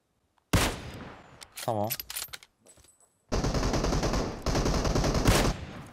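Bursts of Uzi submachine-gun fire in the PUBG Mobile battle-royale game rattle out loud in two long sustained volleys, with someone talking briefly between them.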